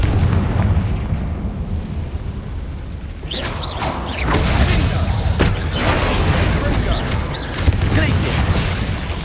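Confringo, the explosive spell in the Hogwarts Legacy video game: deep booming blasts and rumbling impacts with mechanical clatter, loud and close, swelling in several bursts over a noisy game soundscape.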